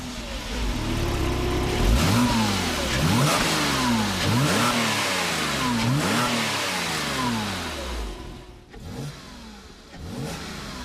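A BMW Z4 Coupe engine revs repeatedly with rising and falling pitch sweeps, loud and close, a sustained mid-range roar that blips up and down several times before easing toward idle near the end.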